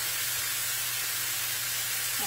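Ground beef sizzles in a pan over medium-high heat, giving a steady, even hiss that holds unbroken from start to finish with a faint low hum underneath.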